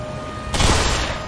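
A single burst of gunfire from shooting enemies in the Black Mesa video game, a sharp loud blast about halfway through followed by a brief decaying tail, with no talk.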